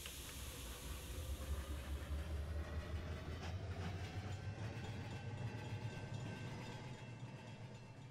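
A model steam locomotive, a Black 5, runs along a track layout in the game Rolling Line, a steady chuffing rumble with rhythmic rail clatter and a faint hiss, continuous and fairly quiet.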